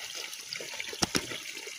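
Water trickling at an outdoor water source, a soft continuous dribble with two brief splashy drips near the end, faint and alone.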